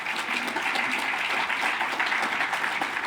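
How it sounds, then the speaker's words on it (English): Audience at a school awards ceremony applauds parents, a dense, steady round of clapping filling the whole stretch at moderate loudness with no talk over it. "a big round of applause for your parents"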